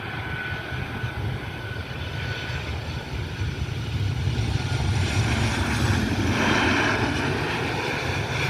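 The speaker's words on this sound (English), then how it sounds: "Southwest Airlines 2575 inbound from Baltimore. This is a Boeing 737-800." A Southwest Airlines Boeing 737-800 arrives inbound from Baltimore at Cleveland Hopkins with a broad, steady jet engine roar that swells slightly toward the end, heard from a distance without speech.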